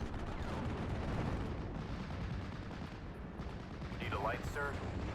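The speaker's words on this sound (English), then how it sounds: "We're going to take down that Ju-87 with our own AA." Anti-aircraft fire in the World War II strategy game Steel Division: Normandy 44 on the Omaha map, a dense, continuous rumble of distant gunfire and explosions with faint whistles over a busy battlefield background.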